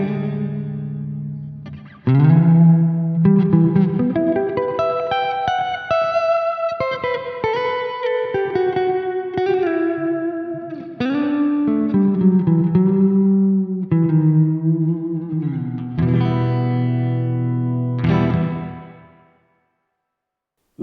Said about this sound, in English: the blue rising here, which is plate. We get a very different reverb going.